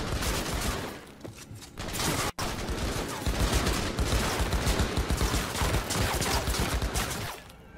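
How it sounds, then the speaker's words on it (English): Rapid bursts of automatic gunfire from the video game Cyberpunk 2077 rattle almost continuously, dense and loud with a brief gap near the start and a sudden cut, fading out at the end. "Who the fuck is shooting me?"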